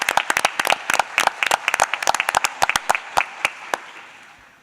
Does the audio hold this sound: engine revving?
no